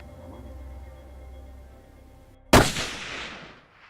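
A single loud rifle shot cracks close by during a red stag hunt in New Zealand, echoing and decaying over the hillside after a quiet stretch.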